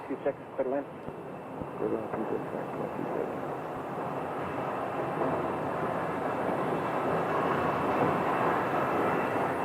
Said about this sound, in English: There goes the 777 pushing back.